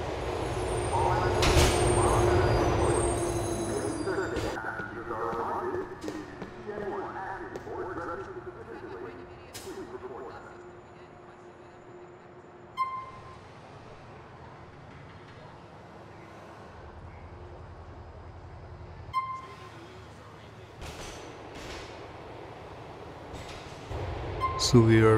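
Subway train in Grand Theft Auto 4 rumbles and clanks through a station, with a loud opening passage that fades into quieter rolling noise and a few sharp clunks, while someone talks over it.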